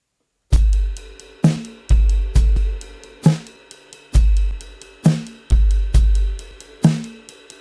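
A drum kit plays a steady worship-song groove with a stepped hi-hat ostinato: booming kick and snare hits with ringing cymbal wash, repeating evenly at a moderate tempo.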